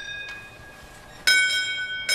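Clanging rings of an antique horse-drawn fire apparatus bell, one faint strike then two loud close strikes and a later fourth, each with a bright, long-ringing metallic tone.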